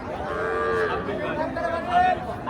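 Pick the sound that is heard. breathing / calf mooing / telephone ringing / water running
calf mooing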